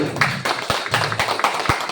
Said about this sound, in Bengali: নিমাই গুরুজির জন্য একটা জোরদার হাততালি